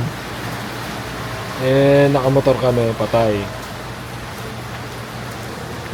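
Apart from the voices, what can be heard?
heavy rain while riding a motorcycle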